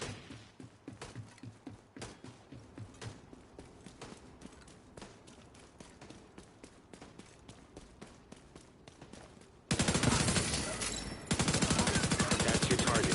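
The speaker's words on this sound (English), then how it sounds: "It's just shooting." Gunfire in The Division 2 crackles in rapid, fairly distant bursts and single shots, then a much louder, dense burst of close firing near the end.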